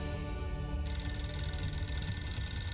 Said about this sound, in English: Someone should really pick up that phone.